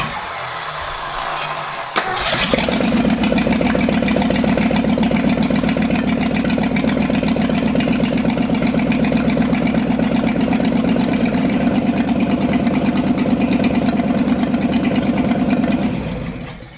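Ford F250 engine cranking and catching after 27 years of sitting, then running at a loud, steady idle with a rhythmic throbbing pulse for over a dozen seconds before cutting off.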